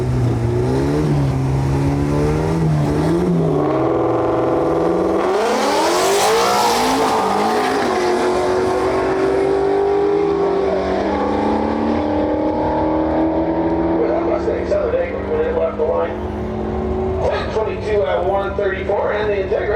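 An Integra drag race car with clutch problems makes a pass down the strip at a dragway, engine revving and climbing through gears, tires squealing, with an announcer talking over it throughout.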